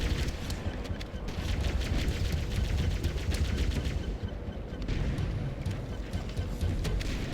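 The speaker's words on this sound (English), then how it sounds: "I hear a shotgun." Gunfire in the Halo: Combat Evolved Library level, with shotgun blasts amid a steady, dense din of combat noise, repeated sharp reports running throughout at moderate loudness.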